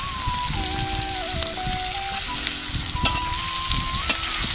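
Chopped onions go into a pan of frying potatoes and ivy gourd, and a steady, close sizzle follows with scattered stirring taps, while faint tonal sounds linger in the background.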